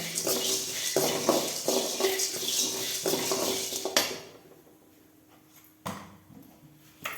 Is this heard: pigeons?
no